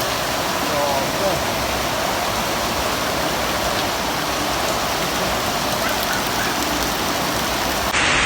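Heavy rain pours down in a dense, constant roar, loud and close, with no break.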